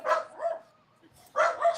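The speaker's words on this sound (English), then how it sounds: "my dog's going nuts" Dogs barking indoors at a delivery person, a few near, loud barks in two bursts separated by a quieter pause.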